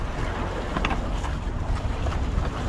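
Steady wind at sea on a bluefin tuna fishing trip buffets the microphone with a constant rushing roar, broken by gusty flutters and faint water-like swishing.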